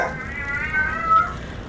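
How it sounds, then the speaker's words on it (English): Cats in a fight yowl behind the listener, one drawn-out, wavering caterwaul that holds for nearly two seconds at moderate distance. "I hear a cat fight behind me"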